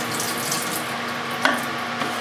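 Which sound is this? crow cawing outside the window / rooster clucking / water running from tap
water running from tap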